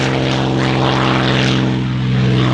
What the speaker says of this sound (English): Here's Quicksilver again, this time rolling out for a takeoff.